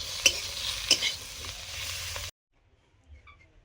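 Bitter gourd fries in a pan with a steady crackling sizzle and a few sharp spatter pops for about two seconds, then cuts to near silence with faint clinks.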